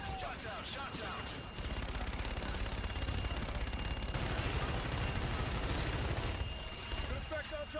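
Fire support shots in the video game Infinite Warfare, heavy sustained rumbling barrage and rapid gunfire filling several seconds, dense and loud, with radio chatter and voices talking over the combat.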